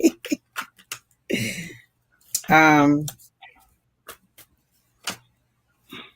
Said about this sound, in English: You guys see me shuffling these cards and going through and trying to mix them up